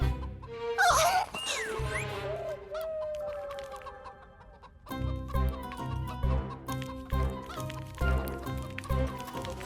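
A hen clucks and squawks in a flurry of sharp calls at first, then keeps up softer clucks over a busy, cluttered background of dramatic music and bustle.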